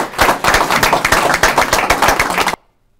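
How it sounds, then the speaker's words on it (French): Warm applause from a studio audience on a French-language campus radio news broadcast, dense rapid clapping held steady and close for about two and a half seconds, then cutting off abruptly to silence. "je pense qu'on peut vous applaudir chaleureusement pour votre travail"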